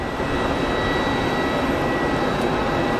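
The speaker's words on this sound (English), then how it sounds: "A320 out to Split." An easyJet Airbus A320 jet at Geneva Airport, a loud continuous jet engine roar filling the whole stretch without variation.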